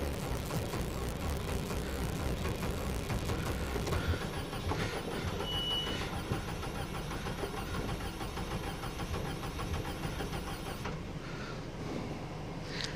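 Rally car engine in Sastamala cranking repeatedly without catching, a steady churning mechanical drone that runs close and loud for the whole stretch, with no voices over it.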